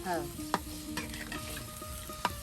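Goat meat fries with spices in a pan while being stirred: a steady soft sizzle carries a couple of sharp spatula taps and scrapes, heard close and fairly quiet.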